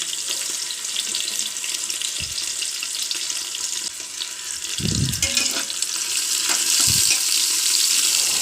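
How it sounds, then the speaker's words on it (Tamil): Chopped onions frying in hot oil with biryani spices for a meal maker and peas biryani, a steady close sizzle throughout with a few soft stirring knocks against the pan. "வெங்காயத்தை நல்லா வதக்கணும்"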